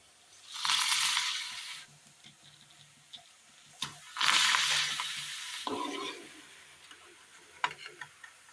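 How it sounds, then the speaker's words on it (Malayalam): Pappadams drop one at a time into hot oil, each setting off a loud burst of bubbling sizzle that fades, with soft clicks and scraping between the bursts. "ചൂടായ എണ്ണയിലേക്ക് വെച്ചിരിക്കുന്ന പപ്പടം ഓരോന്നായി ഇട്ട് കൊടുത്ത് വറുത്തെടുക്കാം."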